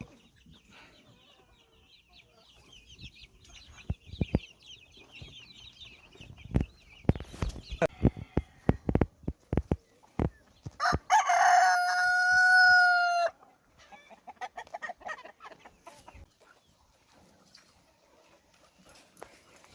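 A rooster crows loudly and clearly among clucking chickens at a kennel yard, with a sharp run of clatter and knocks before the crow and quieter clucks and scattered noises afterward.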